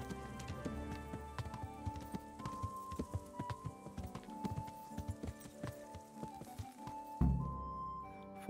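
Horse hooves clip-clopping steadily as a rider travels along paths in Kingdom Come: Deliverance, played on Xbox Series X, the rhythmic steps set among game music and ambience, ending in a sudden heavier thump.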